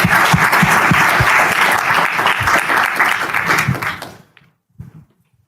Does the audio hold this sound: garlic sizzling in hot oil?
no